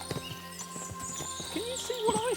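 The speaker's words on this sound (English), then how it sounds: "What a lot of horses." Horses in the medieval video game Kingdom Come Deliverance 2 give a couple of whinnies and soft clopping hooves amid game ambience, fairly quiet and slightly distant, with faint voices around them.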